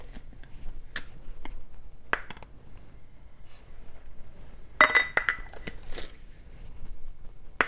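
A measuring cup scoops sugar from a tilted container while making apple pie filling, producing quiet, faint scrapes and a few light clinks spread across the moment, with no speech.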